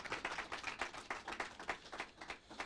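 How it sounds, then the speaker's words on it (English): Faint, distant round of applause at a community meeting, quick regular claps from a small audience with no talk over it. "one more round of applause for Samantha"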